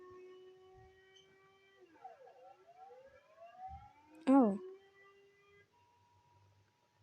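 Emergency alert system alarm tones sweep and warble in pitched glides, ending in a loud sharp siren burst, with a brief voice exclamation over the quiet background.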